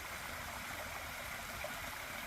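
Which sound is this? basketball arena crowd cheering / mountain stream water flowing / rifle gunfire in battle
mountain stream water flowing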